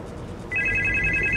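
A telephone rings in the horror video game Supernormal, breaking in suddenly with a fast, bright, repeating electronic trill that continues steadily over a quiet low background.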